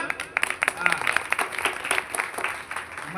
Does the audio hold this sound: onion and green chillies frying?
no